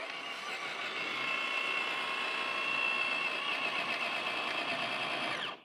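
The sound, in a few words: Traxxas TRX4 Bronco RC crawler motor at full throttle on trail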